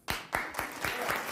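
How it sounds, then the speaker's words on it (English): Studio audience on a TV talk show breaks into applause right after a remark, a few sharp claps building quickly into a short burst of clapping, close and moderately loud. "whoever it is that is immediately clapping after Bill says that"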